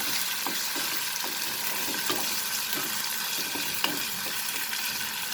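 Ginger garlic paste fries in a pan as a steady, fairly faint sizzle with soft intermittent stirring taps and scrapes throughout, no talking.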